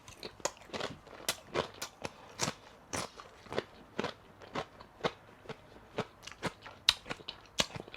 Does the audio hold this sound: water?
no